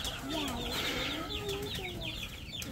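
Chicks cluck and peep excitedly as grain is thrown, several birds calling in quick overlapping chirps, close by and fairly faint over background noise.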